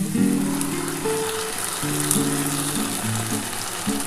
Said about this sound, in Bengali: দেখো আমার পেঁয়াজটা কিন্তু ভাজা ভাজা হয়ে এসছে এবার আমি এই পোস্তটা দিয়ে দিচ্ছি